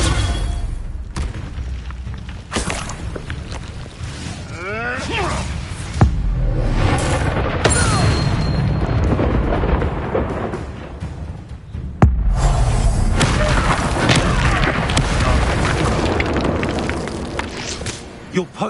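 Incendio fire spell blasts in the Hogwarts Legacy video game, a dense run of booming, crackling bursts with sharp hits near the middle, layered over continuous game music and effects.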